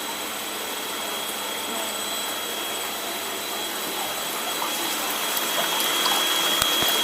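A continuous drone from the water cooling pump of a beeswax comb foundation machine, with watery rushing, runs steadily throughout, close and loud, with no breaks.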